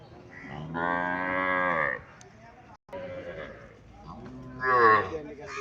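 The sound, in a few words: cow mooing at a cattle market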